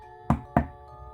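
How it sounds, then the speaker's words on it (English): Two sharp knocks on a door, a quarter second apart, crisp and close over a faint steady hum, as a sound effect. "I heard a knock at the door."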